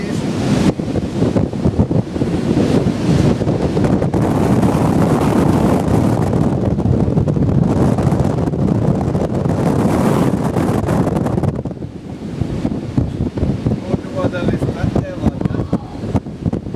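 Strong wind buffets the open deck of the Cunard cruise ship Queen Elizabeth at sea off Norway, a loud continuous roar against the microphone over rushing waves, easing slightly toward the end.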